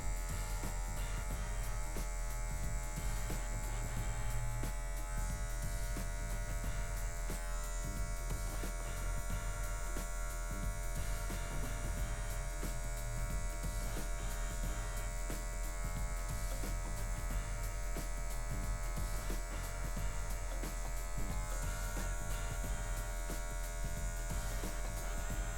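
An electric hair clipper buzzes steadily and close while trimming a medium fade haircut, a constant motorized hum with mains-like drone that holds unbroken throughout with no speech over it.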